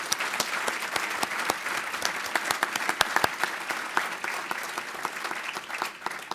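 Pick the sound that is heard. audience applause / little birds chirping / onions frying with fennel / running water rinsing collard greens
audience applause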